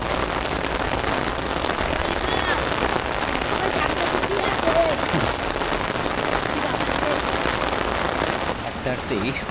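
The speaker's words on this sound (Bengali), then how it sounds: "হাঁটতেই বৃষ্টি চলে আসছে।" Rain arriving suddenly on an open char (river sandbank) along the Padma inside Dhaka, a dense, even hiss of drops that fills the scene steadily and close around.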